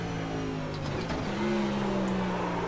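NASCAR race car engine in the iRacing video game, a loud steady drone whose pitch drops and resettles partway through as the car downshifts, constant and close.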